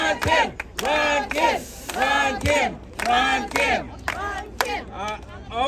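A crowd at a campaign rally for a New York State Assembly member, voices chanting together in loud repeated rhythmic bursts with brief pauses between, close and energetic.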